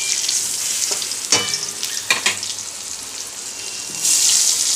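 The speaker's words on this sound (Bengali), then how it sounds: "বেগুনগুলো একটু ভেজে নেব" Salted, turmeric-coated eggplant pieces frying in oil give a loud, crackling sizzle, with a few sharp spattering bursts and a surge of hissing toward the end.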